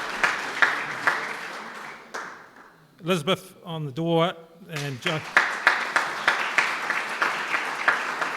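Audience at a Northcote electorate meet-the-candidates meeting clapping in bursts of sharp, scattered applause that fade out, give way to someone speaking over a sound system, then return as rhythmic, spaced claps.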